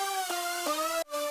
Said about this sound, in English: one of which is 7 octaves up, and that's got a Combs filter on it